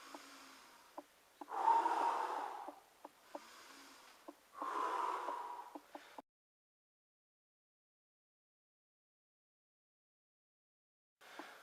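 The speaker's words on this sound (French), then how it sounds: "je vais inspirer en descendant et souffler en remontant." Heavy breaths during bodyweight squats, drawn in on the way down and blown out on the way up, in two close, loud bursts with faint clicks, then silence.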